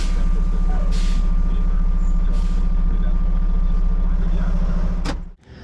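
A semi truck sits with its engine running while the trailer tandems are slid, a loud, steady diesel rumble with brief hissing bursts, ending in a sharp clunk and a sudden drop in sound.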